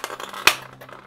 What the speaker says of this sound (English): I've got enough room to get the scissors in.